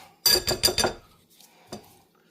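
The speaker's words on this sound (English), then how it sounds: "I'm just going to mix that through." Flour being mixed into food in a bowl with a utensil: three or four quick scraping clinks against the bowl in a row, then a single fainter knock after a pause.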